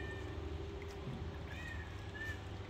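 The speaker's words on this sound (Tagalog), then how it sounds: "Yung pusa nanghihingi na naman ng pagkain." A hungry cat meowing for food, a few thin, faint meows rising over a steady low hum of background noise.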